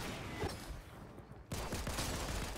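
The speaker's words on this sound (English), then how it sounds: "Oh, he's shooting." Gunfire in the video game Fortnite, a dense, steady rattle of shots running through the whole stretch apart from a short lull near the middle, loud and close with no talk over it.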